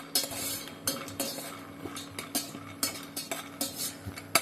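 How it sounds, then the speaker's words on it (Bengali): Peanuts being dry-roasted and stirred in a pan, the spoon scraping and clinking on the metal in a steady rhythm of short, close strokes. "পাত্রের মধ্যে দু মুঠো বাদাম শুকনো খোলায় নেড়ে চেড়ে ভেজে নেব।"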